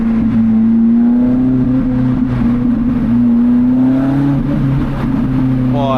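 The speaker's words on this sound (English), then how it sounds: "Wow, the exhaust." Loud car exhaust drones steadily as the car accelerates along a road toward Italy, a strong low engine tone holding under rising revs with a brief downshift blip near the end.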